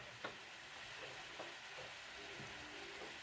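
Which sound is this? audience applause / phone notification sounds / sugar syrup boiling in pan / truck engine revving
sugar syrup boiling in pan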